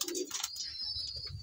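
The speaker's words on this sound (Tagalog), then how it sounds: "ang ating ibon na si Kulanggi" A racing pigeon coos close by in a fancier's loft, giving a few soft, throaty calls over faint chirps and a thin high background tone.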